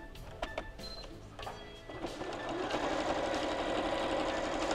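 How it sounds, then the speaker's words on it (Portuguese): Sewing machine stitching a fabric backpack lining, starting with a few short clicks and bursts before settling into a steady, fast mechanical whir that carries to the end, close and alone. "Então vamos costurar o forro para eu mostrar para você."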